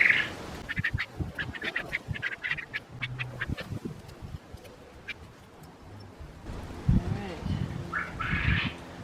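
Quail calling outdoors on a sunny day in a garden, a series of short bird calls in the first half, fairly close, with rustling and other sounds around them.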